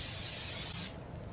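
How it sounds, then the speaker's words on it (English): Non-stick cooking oil sprays onto the bottom of a baking tray in one continuous close hiss lasting under a second, then cuts off abruptly. "We just lightly spray the bottom."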